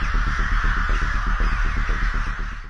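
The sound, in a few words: large flock of birds, crows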